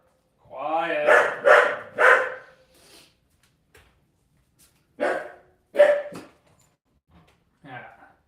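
Dogs bark indoors at home in a quick burst of three loud, close barks, then after a pause two more, with a last softer yelp near the end and quiet gaps between.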